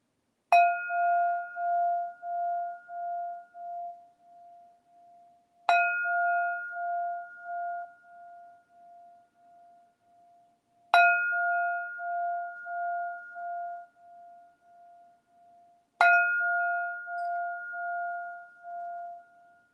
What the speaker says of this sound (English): Listen to the sounds of the bells.